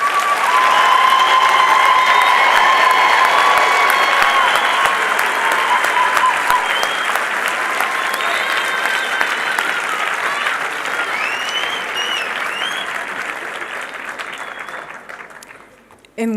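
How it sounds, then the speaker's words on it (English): A large crowd claps steadily for graduates at a medical college ceremony in South Africa, loud and sustained for a long stretch, slowly tapering off toward the end. "give another huge round of applause to all our graduates?"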